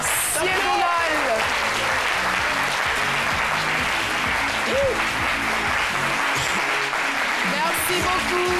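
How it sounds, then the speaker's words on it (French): Loud, sustained applause from a large television studio audience fills the whole stretch, dense clapping with a few cheers rising above it. "Merci de l'applaudir très, très fort."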